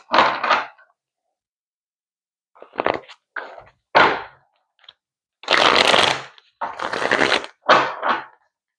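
A tarot card deck being shuffled by hand: several short crisp bursts of riffling and flicking cards, close and clear, with silent pauses between them and no talk.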